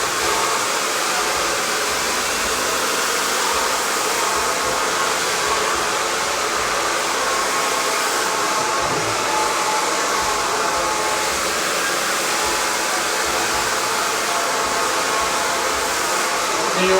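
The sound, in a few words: hair dryer blow drying hair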